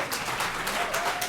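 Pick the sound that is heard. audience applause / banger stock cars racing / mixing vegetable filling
audience applause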